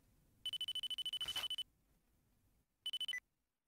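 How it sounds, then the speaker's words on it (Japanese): Mobile phone ringtone in a Nintendo DS mystery adventure game, a fast electronic trill ringing in a long burst, a pause, then a shorter burst cut off with a final tone. "すみません、私の携帯電話みたいです。"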